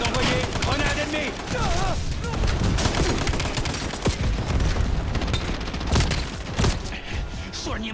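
Dense gunfire rattles through a Call of Duty Black Ops 7 match, rapid bursts and shots layered with booms and in-game voices and effects, continuous and loud for the whole stretch.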